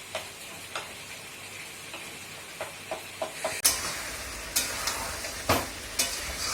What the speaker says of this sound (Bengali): টমেটো কাঁচা লঙ্কা দিয়ে একটু কষিয়ে নেবো